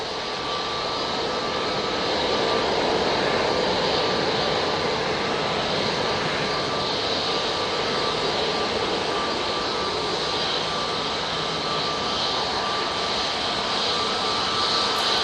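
A jet airliner at Manchester Airport roars in a steady, broad rumble that holds loud and even throughout, with no talking.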